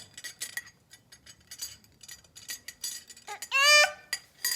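Spoons clink against dishes in a string of sharp, bright, irregular taps close by, followed by a brief high chirping squeak near the end.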